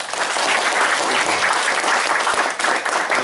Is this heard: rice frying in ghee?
no